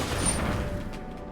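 Chandra card played in the Magic Arena digital card game, a dense rumbling fiery burst that swells at once and slowly fades over about a second, steady and fairly loud with no talk.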